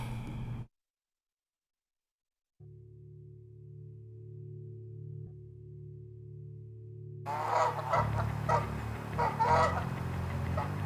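Geese honking near Barstow, a burst of close, loud overlapping honks and calls arriving near the end after a stretch of silence and a steady low hum.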